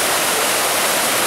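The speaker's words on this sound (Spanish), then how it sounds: "Pues ya vamos a ver la cascada a ver qué tal." Waterfall in Jamaica near Ocho Rios, a loud, steady, close roar of rushing water filling the whole clip without pause.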